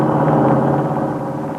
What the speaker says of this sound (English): Now, that's the sound of the new car you're going to buy after the war's over,